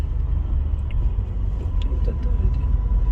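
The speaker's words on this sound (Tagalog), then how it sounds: "Haba ng traffic from Lipadi hanggang dito." Road traffic rumbles steadily in a low, continuous drone from passing vehicles in the aftermath of a typhoon, with faint higher sounds in the background.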